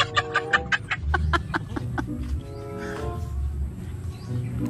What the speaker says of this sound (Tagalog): Yung manok po.